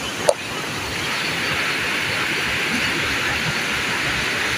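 Strong waterfall current after a flash flood at Baga Falls, a loud, dense and continuous roar of rushing water with a brief sharp knock near the start.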